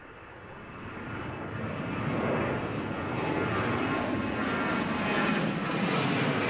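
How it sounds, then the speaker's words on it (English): Malaysia Airlines Airbus A330-200 freighter crossing the runway at Amsterdam Schiphol, a steady broadband engine roar that swells slightly and holds at moderate distance, with no talk. "Beautiful A330 from Malaysian Airways, A330 200 freighter, crossing the runway there."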